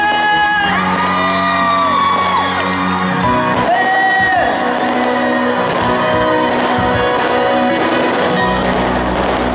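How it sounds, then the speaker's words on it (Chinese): A large outdoor concert crowd at a temple Ghost Festival celebration in Zhongli screams, whoops and cheers loudly for the singer, a sustained roar with shrill rising voices. "给自己掌声尖叫声"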